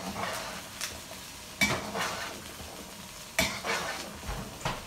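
Chicken and potato with spices are stirred in a pot for biryani: spoon knocks and scrapes recur every second or so over a faint background sizzle, with a few sharper clanks against the pan.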